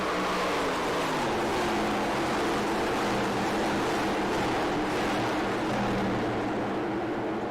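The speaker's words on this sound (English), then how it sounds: "Listen to those engines roar as they swing around the corner." Vintage race cars roar around a corner in a loud, continuous engine drone, pitch sliding downward early as they swing through, with no pause.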